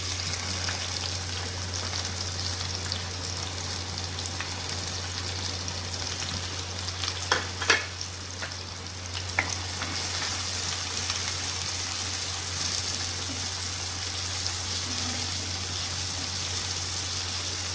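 Onion, garlic, curry leaves and green chili frying with fennel seeds in hot oil for a crab gravy, a continuous close sizzle with a few stirring clinks partway through, no talking.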